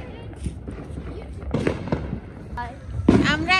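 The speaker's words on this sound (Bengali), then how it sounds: "আতশবাজি ফুটাচ্ছে আমেরিকার স্বাধীনতা দিবসে রাত 9টার সময়" Fireworks burst around a street at night on American Independence Day: sharp popping cracks and louder booms, some near and some distant, with people talking and calling out over them.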